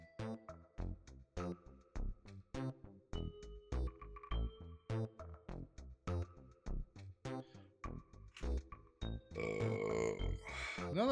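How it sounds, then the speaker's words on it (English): A drawn-out, rumbling human burp comes near the end, following a run of steady rhythmic pulsing sounds. "Another burp."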